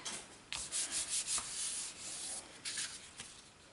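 A cotton bud rubs across a stamped card in several short, close strokes, a soft papery scrubbing that comes in bursts with brief gaps between them.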